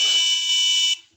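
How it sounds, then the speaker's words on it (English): An electronic buzzer in a wired circuit project emits one steady, piercing high-pitched tone for just under a second, then cuts off abruptly into silence. "you can turn on the buzzer"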